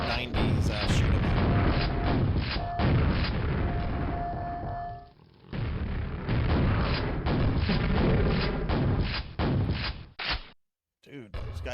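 Heavy, booming grenade blasts and gunfire from Quake, the mid-90s shooter, crashing loudly in dense bursts with short gaps, while a voice talks underneath the explosions.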